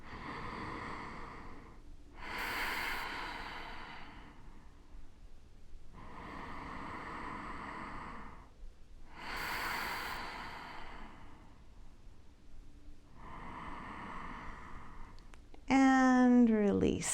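Deep breathing during a bone-density exercise routine, several slow, airy breaths in an even rhythm, soft and close, followed by a brief voice at the end.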